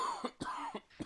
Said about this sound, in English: we don't really want a lot of coughing going on